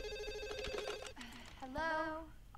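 A telephone rings in the opening scene of the horror film Scream: an electronic ring sounds close, then a voice speaks briefly over quieter tones.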